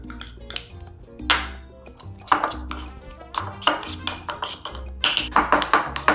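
Room-temperature butter is mashed with minced garlic in a bowl, giving a series of sharp metallic taps, clinks and scrapes of a utensil against the dish, irregular and close, with quiet gaps between strikes and no voices.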